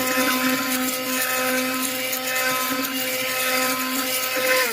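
An electric mixer blends lime, coconut and butter curd with a constant high whirring motor whine, loud and close, its pitch holding steady throughout with no voices.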